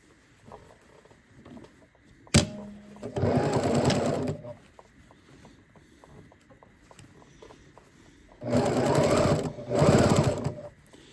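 A sewing machine stitches a fabric bag in two bursts of fast, whirring needle runs, close and loud, separated by a quiet pause with a sharp click at the start.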